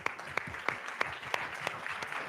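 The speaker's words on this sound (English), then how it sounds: "applause" Audience applause following a talk at a Data Beers event, a steady crackle of many hands clapping with a few sharper claps standing out, continuous for a couple of seconds.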